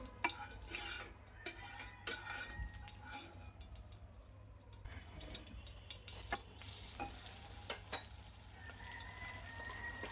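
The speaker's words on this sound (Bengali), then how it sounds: "তেলটা গরম হলে মাছ দিয়ে দেবো।" Tengra fish fry in hot oil in a pan, a faint crackling sizzle with scattered pops and occasional utensil scrapes and stirring, low and close throughout.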